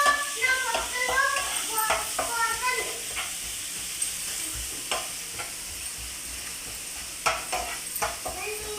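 Garlic frying in oil with fenugreek seeds for avakaya pickle, a soft steady sizzle broken by the scrape and clink of stirring, with a voice talking over the first few seconds.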